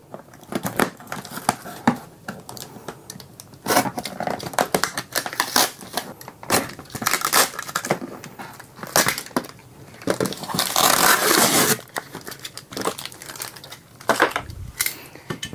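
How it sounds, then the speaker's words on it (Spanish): Scratchy slicing and tearing sounds with crinkling and sharp clicks, like a blade cutting through packing tape on cardboard, in uneven bursts. "comenzar abriendo la caja cortando la cinta adhesiva"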